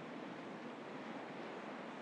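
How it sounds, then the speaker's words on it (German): Sea surf rushing steadily along a windy shore, a continuous soft broadband wash of waves with wind noise, distant and even with no voices. "Bei mir rauscht gerade das Meer im Hintergrund,"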